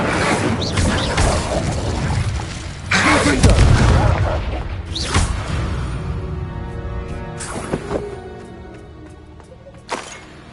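A fire spell cast in a Hogwarts wizarding game lands with heavy booming whooshes and crackling bursts, loud and close, then fades into a ringing, shimmering tail and a few later hits.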